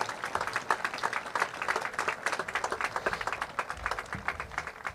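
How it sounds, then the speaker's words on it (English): An audience at a high school graduation ceremony applauds award recipients, with clearly separate, rhythmic claps from a modest crowd holding an even, moderate level throughout. "how about another round of applause for our Excellence Awards?"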